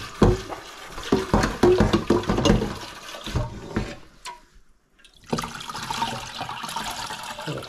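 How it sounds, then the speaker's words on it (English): Cold water poured through a splash bag holding dyed CDC feathers: irregular splashing and trickling bursts, then a brief near-silent gap before a steadier rushing water sound resumes close by. "Add a wee bit of cold water into it."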